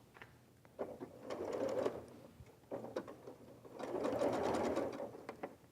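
Sewing machine stitching in two separate runs, each a close, buzzing, rhythmic chatter that starts and stops, with a quiet gap and small handling clicks between them.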